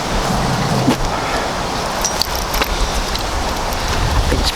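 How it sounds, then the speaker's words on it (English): Strong wind buffets a microphone outdoors on a farm, making a loud, steady, broadband roar with gusty rumbling that stays constant throughout and covers everything else. "It's really, really windy down here."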